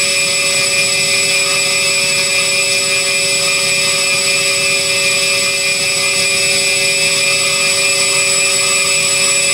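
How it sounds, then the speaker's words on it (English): Electric motors with no propellers spin on a bench during a battery test, producing a loud, steady high-pitched whine with constant tones that neither rise nor fall. "the motors are just sitting there spinning"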